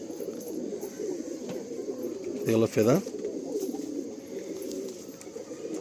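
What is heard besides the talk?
Andhra Kalanka pigeons cooing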